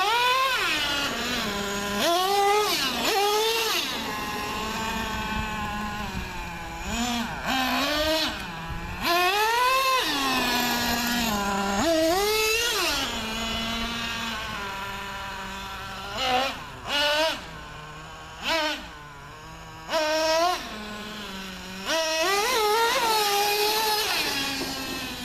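A Traxxas T-Maxx nitro RC truck engine warms up at about half throttle, a buzzy, high-pitched whine that revs up and down again and again, dropping to short idle gaps toward the end.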